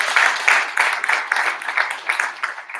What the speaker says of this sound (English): please, a round of applause for my chief of staff